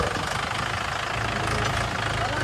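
A Mahindra 575 tractor pulling a Jamunanagar trolley in a farm field runs with a steady, close, rumbling engine drone that holds constant throughout, with no talk over it.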